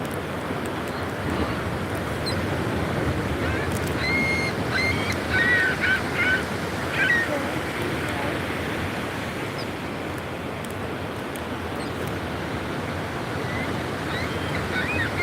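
Ocean waves wash steadily onto a beach at sunrise, a broad continuous roar of surf with wind, and faint gull-like cries drift in from a distance.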